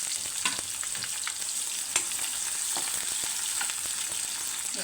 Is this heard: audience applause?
no